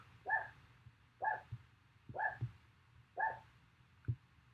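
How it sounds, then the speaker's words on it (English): A dog named Romeo barks four times in an evenly spaced series, then gives a short fifth yip. The barks are fairly close and moderately loud over a low background hum, with no talk. "Romeo, please stop barking."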